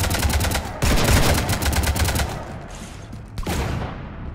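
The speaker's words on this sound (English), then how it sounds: "You want to stop shooting up my ship?" Rapid automatic gunfire in Mass Effect 3, loud close bursts of rattling shots with a brief gap before firing resumes near the end.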